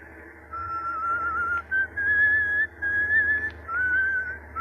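A man whistles a wavering, sustained tune in an old-time radio drama set in thick fog, the melody loud and close with short breaks between phrases over a low background hum.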